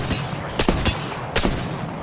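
Gunfire from the Apex Legends shooter game, with several short bursts of shots spread over two seconds above a steady game backdrop.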